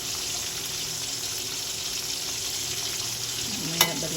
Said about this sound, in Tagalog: Nag-prito na ako.